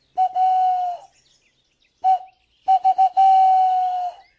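A bird call lure imitates a bird's song in clear whistled notes: a long held tone, a short isolated note, then a quick stutter of three notes running into another sustained tone, loud and close.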